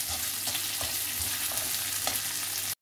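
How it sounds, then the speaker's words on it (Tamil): Chopped bell pepper sautéing in a hot pan for chilli idli, a steady sizzle and fry with soft stirring scrapes recurring every half second or so, close and continuous. "குடமிளகாவையும் போட்டு கொஞ்சம் நல்லா வதக்கி விட்டுக்கோங்க."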